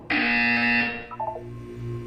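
A loud, steady electronic buzzer from the video game Portal 2 sounds for about a second, then cuts off into a few short, quieter warbling tones over a low background hum.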